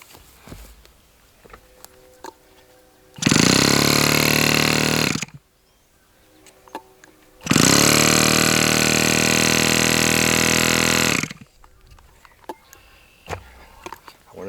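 A small engine being restarted after binding trouble, run on homemade swamp-juice fuel, bursts into loud, rough running for about two seconds, dies, then fires again and runs steadily for roughly four seconds before cutting out into quiet.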